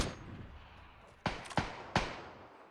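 Three sharp, fairly loud gunshots from the video game PUBG crack out in quick succession over a faint, quiet background, each with a short decaying tail.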